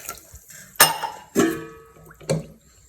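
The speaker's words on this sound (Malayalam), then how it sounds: "വെള്ളം ഒഴിച്ച് മൂടി വെക്കാം" Water with salt is poured into a cooking pot and a lid is set on top, producing a short splash and a few sharp metallic clinks spaced across the moment.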